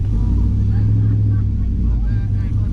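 A 2008 GMC Sierra truck with a 4.8 V8 and stage 4 cam idling loud and close, a deep rumbling lope with a steady uneven pulse and no voices over it.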